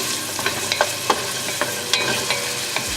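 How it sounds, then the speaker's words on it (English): Close, continuous sizzling of food frying in a pan, with scattered pops and crackles and occasional stirring scrapes. "Here we have our sizzle."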